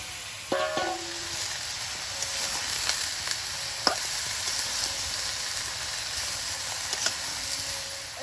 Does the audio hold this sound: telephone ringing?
no